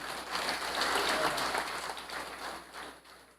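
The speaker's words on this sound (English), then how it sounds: "Let us give ourselves a round of applause." Audience applause at a Guyana Police Force annual Christmas award ceremony, a steady wash of clapping from a crowd that swells early and then gradually thins toward the end.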